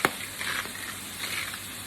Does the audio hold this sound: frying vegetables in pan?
yes